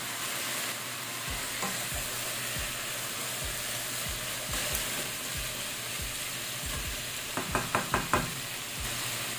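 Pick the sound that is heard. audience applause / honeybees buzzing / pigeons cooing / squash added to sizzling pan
squash added to sizzling pan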